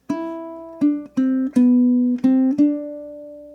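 Bar 3 of Bach's Bourrée fingerpicked on a low G ukulele across three strings, six clear plucked notes in a measured rhythm, each ringing briefly before the next, close and solo.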